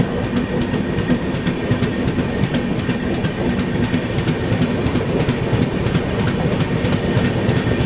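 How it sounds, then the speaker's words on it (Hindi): A Duronto Express rolls past the Golden Temple Mail at Tughlakabad with a steady rumble and rhythmic clickety-clack of wheels, loud and continuous from on board. "निज़ामुद्दीन से निकलते ही तुगलकाबाद पे पहला ओवरटेक अपनी दुरंतो एक्सप्रेस का गोल्डन टेम्पल मेल को"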